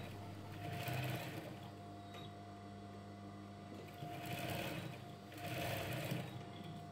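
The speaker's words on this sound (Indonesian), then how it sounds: "jahit bolak-balik biar kuat ya guys" A sewing machine stitches back and forth on waistband elastic, giving a steady, close motor whir with a rapid needle clatter that swells in two or three louder bursts and eases between them, with no talking.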